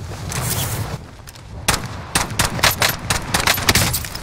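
Gunfire in a battle royale video game: bursts of rapid shots and scattered single cracks over a rumbling background, fairly loud and close, with no talk.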